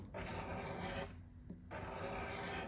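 Scratch-off lottery ticket being scratched, a close, loud rasping rub in two long strokes with a brief pause between them and no talk.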